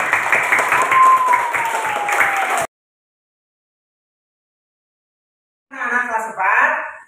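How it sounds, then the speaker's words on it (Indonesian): Classroom applause from a class of fourth-grade pupils during an Islamic religious education lesson, a dense burst of clapping lasting a couple of seconds, then silence, followed by a short stretch of children's voices. "Tepuk tangan untuk kita semua."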